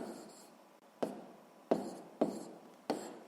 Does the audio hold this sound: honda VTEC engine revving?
no